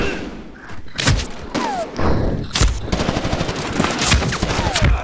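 Gunfire in Medal of Honor Warfighter: loud, sharp shots and rapid automatic bursts with heavy thuds and ricochet whines, firing in irregular clusters close up throughout.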